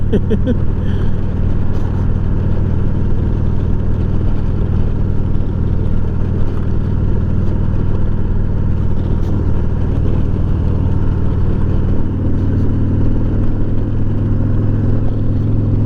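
A 2021 Harley-Davidson motorcycle ridden continuously, giving a loud, steady low engine rumble mixed with road and wind noise for the whole stretch, with a slight shift in tone near the end.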